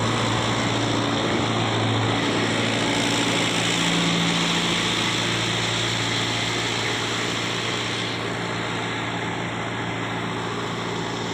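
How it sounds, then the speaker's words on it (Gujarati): A loud, steady engine drone with a low mechanical hum runs throughout from a tractor-driven piling machine boring close by. "તો આ રીતે પાઇલિંગ મશીન છે જે અત્યારે બોર કરી રહ્યું છે,"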